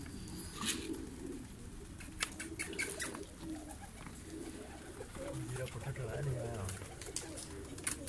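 Pigeons in a new cage, cooing softly and fluttering their wings at close range, with faint chirps and background rustle, fairly quiet overall.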